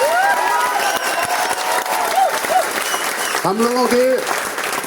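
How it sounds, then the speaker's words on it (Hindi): A crowd at a wellness company event gives loud, sustained applause for the company founder. A voice speaks over the clapping throughout. "जोरदार तालियां हम संजीव सर के लिए बजा सकते हैं"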